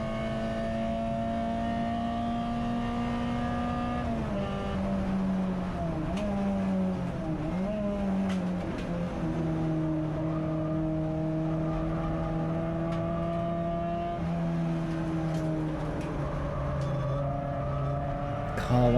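Touring race cars, CSCC Tin Tops and Turbo Tin Tops, race at Silverstone GP circuit through Luffield corner, their engines droning and shifting pitch continuously as they brake and accelerate, with commentary talking over them.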